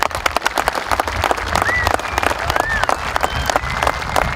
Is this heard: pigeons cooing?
no